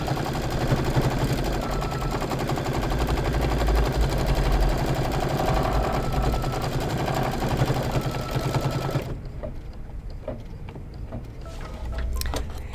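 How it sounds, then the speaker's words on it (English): An embroidery sewing machine stitches out a placement line for a Christmas tree quilt block, a fast, steady mechanical whirring with rapid needle ticks that stops partway, leaving quiet clicks and light handling. "we're going to go ahead and let's stitch out the placement"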